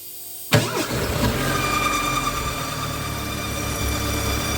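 An Audi 80 engine cranks and catches after a distributor and ignition repair, a sharp start about half a second in that settles into a steady, slightly uneven idle nearby.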